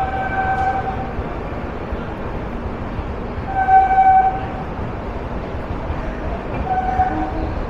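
The 13151 Jammu Tawi Express pulls out of a Kolkata station with a steady, moderately loud rolling rumble of wagons and faint horn-like tones that recur at intervals.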